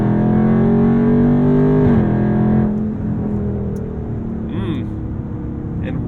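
A Dodge Charger Scat Pack Widebody V8 downshifting through the paddles: a loud engine drone climbs, drops sharply with each shift, then pulls again as speed builds, heard from inside the cabin.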